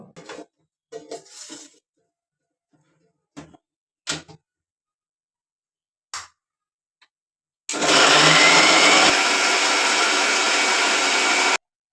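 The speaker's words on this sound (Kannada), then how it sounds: "ಇವನ್ನ ನೀರಲ್ಲಿ ಕ್ಲೀನಾಗಿ ತೊಳ್ಕೊಂಡು ಮಿಕ್ಸರಲ್ಲಿ ಚೆನ್ನಾಗಿ ನುಣ್ಣಗೆ ರುಬ್ಕೋಬೇಕು" Several light clinks and knocks of loading the jar come first, then a mixer grinder starts grinding whole spices with water for a chicken masala gravy, running loud and steady to the end.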